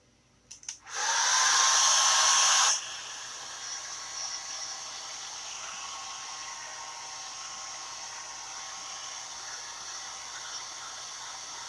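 A heat dryer used on craft home decor switches on after a couple of clicks, roars loudly for about two seconds, then cuts out, leaving a faint steady hiss.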